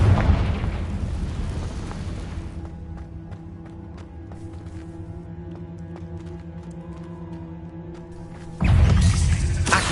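Fiery Confringo spell blasts in Hogwarts Legacy: a loud explosive burst opens, crackling and rumbling textures follow with a sustained tonal hum, then another heavy blast erupts near the end.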